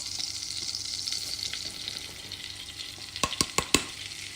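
Flour added to melted butter or margarine in a pan for a roux on medium-low heat, sizzling steadily and then stirred, with a few sharp scraping knocks near the end.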